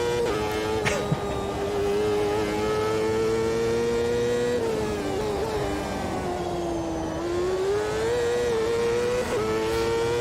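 A race car engine in the video game Automobilista 2 at Road America holds a steady high whine with a fluttering tone, dipping and rising through gear changes, loud and continuous with no talk.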